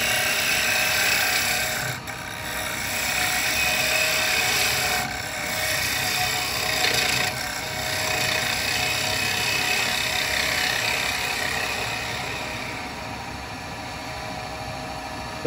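Carbide tool cutting a black walnut bowl on a woodturning lathe, a loud, continuous whirring scrape with a few brief dips as the cut pauses.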